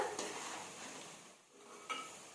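Punugulu batter fritters frying in hot oil, a soft steady sizzle with faint clinks of a utensil stirring the pan, quiet and close with no talk.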